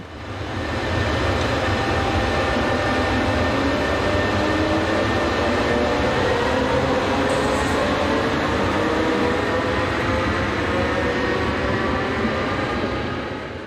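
A new, powerful Class 3000 electric locomotive, built in a joint order with Belgian railways and identical to their Class 1300, hauls a passenger train past at a steady loud roar with rumble and rail noise, with no one talking.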